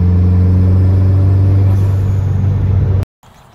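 Dodge SRT4 with a boost controller, the engine droning steadily and close with a heavy low rumble, then cutting off abruptly near the end.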